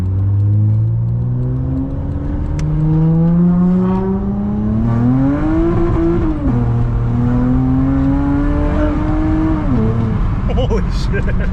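Supercharged Acura TL Type-S accelerating hard, engine climbing in pitch through two gear shifts with a rising whine, loud and close from inside the cabin, with voices faintly present.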